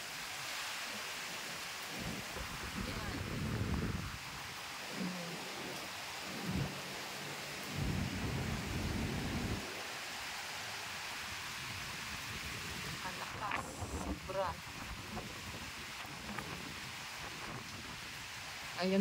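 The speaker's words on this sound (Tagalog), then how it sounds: "Ang lakas ng hangin, oh." Strong typhoon Uwan wind and rain lash a flooded area of Quezon Province in the Philippines. Heavy, roaring gusts buffet in waves over a constant wash of rain, with a voice heard faintly at times.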